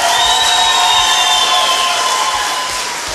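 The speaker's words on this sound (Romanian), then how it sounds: "Haideți să-l aplaudăm pe Ion." A talent-show audience at Moldova Are Talent cheers and applauds loudly for contestant Ion Bragaru, a dense, steady roar of clapping and shouting with whistle-like tones riding on top, tapering slightly at the end.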